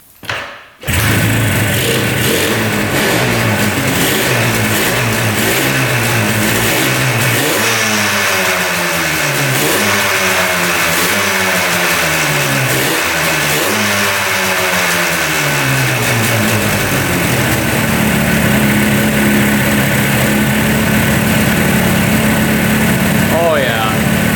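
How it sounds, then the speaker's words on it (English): A 1976 two-stroke twin-cylinder motorcycle that had not run in over twenty years starts up and runs close by. It rises through several revving swells, then settles into a steady buzzing idle. "Both cylinders are running."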